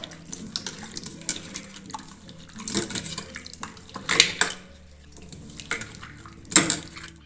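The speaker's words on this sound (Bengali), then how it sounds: "ছোট ছোট করে টুকরো করে নেব ভালো করে জল দিয়ে ধুয়ে নেবো" Cut sweet potato pieces being washed in water for a sweet potato malpua, with close clattering of pieces against a pot or bowl, splashing water and occasional sharper clinks, no talking.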